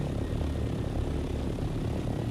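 A helicopter in the Dune Awakening video game drones steadily, a constant low engine rumble with no break and no talk.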